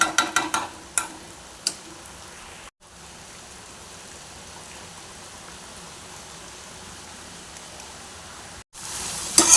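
Tomatoes seasoned with salt cook in a pan, giving a steady, soft sizzling hiss throughout, with a few sharper clatters at the start and a brief louder burst at the end.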